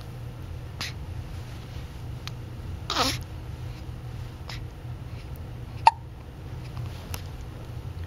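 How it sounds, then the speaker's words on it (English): A young child's hiccup, a single brief squeak standing out from quiet room noise, with a few other faint clicks and small sounds around it. "Do you have the hiccups?"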